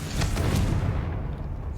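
A booming Confringo fire-spell blast in Hogwarts Legacy, a loud low rumbling explosion with a few crackling bursts at the start that fades over a second or so.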